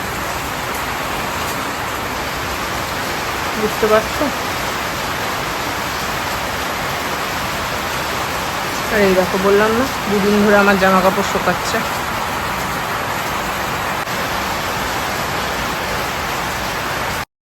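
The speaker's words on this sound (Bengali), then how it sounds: "প্রচন্ড জোরে বৃষ্টি পড়ছে" Heavy rain pours steadily throughout as a dense, even roar, with someone talking over it in a few short stretches.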